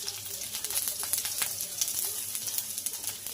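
Tempering spices such as onion, dried red chillies, fenugreek and cumin frying in hot oil for charu, a fairly quiet crackling sizzle with scattered pops and spits throughout.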